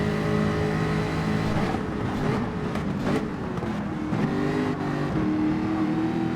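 A Mazda race car in Gran Turismo 7 roars steadily at high revs on a straight, with engine pitch rising and dipping through gear changes and other cars audible around it.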